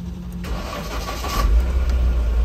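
Mahindra Bolero Pickup BS6 diesel engine starting after a soot-mass DPF regeneration fault: a short cranking burst, then the engine catches and settles into a loud, rumbling idle.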